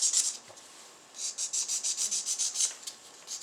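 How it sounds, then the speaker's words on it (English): Hard gel nail supports being filed down by hand, a quick run of rhythmic high-pitched rasping strokes, close and fairly soft, with a short pause before the steady back-and-forth filing resumes. "filing"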